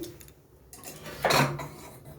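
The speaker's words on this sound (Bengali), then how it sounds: "প্রেশার কুকারের ঢাকাটা লাগিয়ে নিই" A pressure cooker lid is set and fitted onto the pot while cooking moong dal with bitter gourd, giving a short, loud metallic clatter and scrape in an otherwise quiet kitchen.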